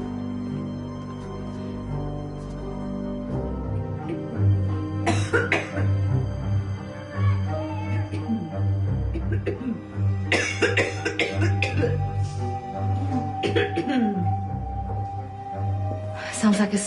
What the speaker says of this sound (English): Sounds like a smoker's cough.